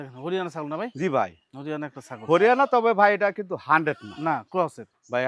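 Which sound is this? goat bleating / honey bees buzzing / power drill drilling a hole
goat bleating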